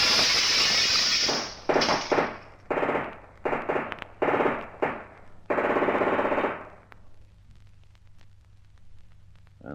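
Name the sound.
glass crash as man dives through window, radio drama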